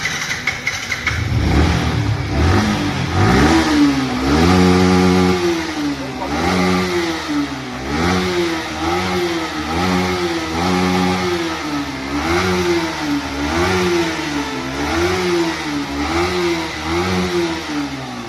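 A motor vehicle engine cranks and catches, then revs repeatedly in a rhythmic rising and falling pattern, loud and close, with occasional voices in the background.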